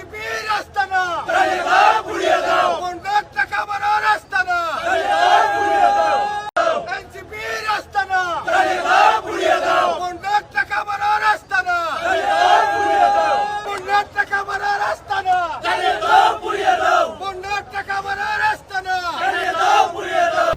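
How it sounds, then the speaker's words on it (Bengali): BNP activists at a rally in Kulaura, Sylhet, chant slogans at NCP leaders: a loud crowd shouts in steady rhythmic bursts, the massed voices rising and falling continuously without a break. "এ সময় তারা এনসিপির নেতাদের উদ্দেশ্য করে স্লোগান দিতে থাকেন।"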